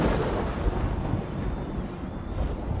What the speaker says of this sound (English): Thunder rumbled.